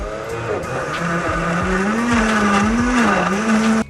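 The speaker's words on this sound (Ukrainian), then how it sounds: "Наш блендерочок." A kitchen blender chops carrot, garlic and vegetables for a bograch dressing, its motor whirring loudly and continuously with rising and falling pitch as the blade works through the chunks.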